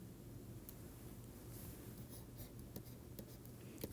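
Chalk or pen writing out a linear algebra math example during a lecture, a soft continuous scratching and scraping with a few sharper taps, close but faint, with no talk.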